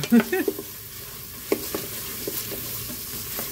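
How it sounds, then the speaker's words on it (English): Vegetables frying in a pan for keto chicken tikka masala give a steady low sizzle, with occasional soft knocks and scrapes from a stirring spoon, close by and moderately quiet, no talking. "let me stir my vegetables up"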